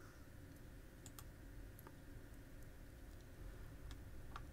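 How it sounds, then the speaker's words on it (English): Faint computer keyboard key presses and mouse clicks at a desk, a few sparse light ticks over a steady low room hum, no talking. "I'm going to press Control V. Then I'm going to go down to the bottom here and click on Check."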